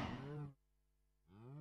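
A cow in a video game gives a short, drawn-out moo, close and clear, with a brief pause before the low call resumes.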